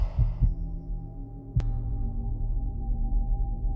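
Pulsing heartbeat effect for a massive crystalline structure in a chamber beneath a lost desert city: a deep low throb with a steady hum, one sharp thud partway through, and no voices.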